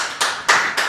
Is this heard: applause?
yes